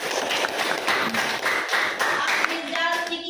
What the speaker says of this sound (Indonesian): tepuk tangan untuk Dafa